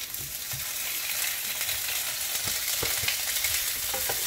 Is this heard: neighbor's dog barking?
no